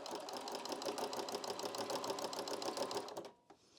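A sewing machine stitches fabric for a child's apron with a fast, even mechanical chatter of rapid needle strokes, close and steady, then stops abruptly.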